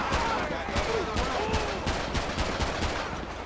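Scattered gunshots from a shootout in the police video game LSPDFR, many sharp reports in quick irregular succession over a steady noisy background.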